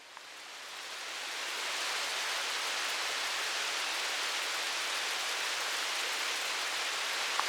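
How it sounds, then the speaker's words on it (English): Hail falls beside a trout river as a dense, steady hiss of pelting ice that swells over the first seconds and then holds loud and unbroken, with no voices. "I'm currently being pelted by hail when I should be fishing."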